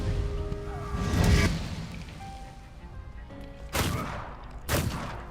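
Several sharp, booming gunshots from a game, a heavy blast early on and two more reports near the end over faint background tones.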